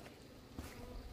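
Hornets buzz close by in a steady, low drone, faint but continuous for about a second, with no voices.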